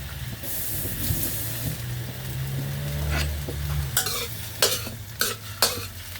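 Ginger and garlic stir-fry in a pan for braised pork ribs, first as a steady close sizzle, then as several sharp scraping strokes of a spatula against the pan, with no voices.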